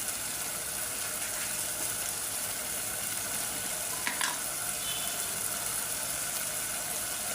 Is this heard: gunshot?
no